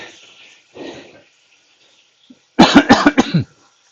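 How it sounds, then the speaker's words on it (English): A burst of several loud, close coughs in quick succession, following a quieter breathy sound earlier. "I apologise every time I cough or other things."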